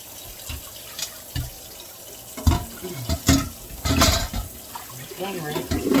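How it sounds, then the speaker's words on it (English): Homemade butter made from whipping cream is rinsed under a running kitchen tap, with splashing, bursty water and handling noises close by while a person talks over it. "you want to be rinsing that until that water is clear"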